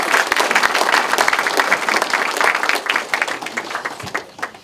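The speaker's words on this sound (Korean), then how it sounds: "힘찬 박수 부탁드리겠습니다" Audience applause fills a municipal town-hall meeting in Daesan-eup, Seosan, greeting the city mayor as he takes the stage; dense, steady clapping from a sizable crowd, loud and continuous, fading slightly toward the end.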